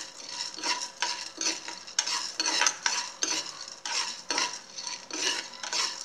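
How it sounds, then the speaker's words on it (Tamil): Dal roasts in a pan with a little oil for paruppu podi, giving rhythmic, close scraping bursts as a spatula stirs back and forth about twice a second over a faint sizzle, with no voices. "லைட் லைட்டாக இது வந்து பருப்பை வந்து நல்லா செவக்க வறுத்துக்கிறணும்."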